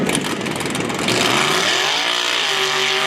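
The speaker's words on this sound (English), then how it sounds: "That car almost grew by about 6 inches leaving the start line." A drag racing car launches and powers down the strip at a test and tune meet at North Weald. The engine note is loud and close, and its pitch rises steadily as the car accelerates.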